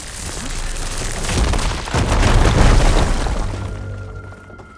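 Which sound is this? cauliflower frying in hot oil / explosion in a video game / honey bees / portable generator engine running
explosion in a video game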